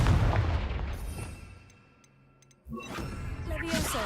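A Confringo fire spell cast in the Hogwarts Legacy video game, heard as loud booming blasts that fade into a quiet gap before another sharp burst hits, with faint ticking in between.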